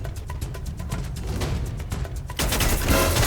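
Rapid video game gunfire rattles in dense overlapping bursts, loud and close, with a heavier wave of shots at the end.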